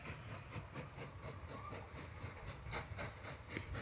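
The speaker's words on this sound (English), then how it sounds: "It looks like a log train going that way, or planks." A log train rolls past in the train-building game Mashinky, with faint regular clickety-clack of wheels over the rails and a soft steam hiss in quiet game ambience.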